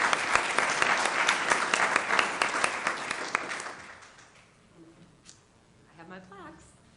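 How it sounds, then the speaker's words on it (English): An audience at a business meeting claps loudly and steadily for several seconds before the applause tapers off into quiet room noise and a few faint voices. "Give him a round of applause."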